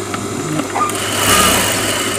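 A sewing machine runs steadily, stitching along the overlocked edge of a trouser side pocket, its mechanical whir close and continuous for the short stretch with no talk over it.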